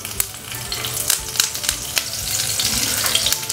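Curry leaves dropped into hot sesame oil, a close, steady crackling sizzle with sharp spitting pops throughout.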